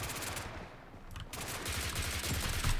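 Bursts of HK417 battle rifle fire in the BRM5 video game, fast cracking shots in a dense, sustained volley with a brief lull before firing resumes loudly.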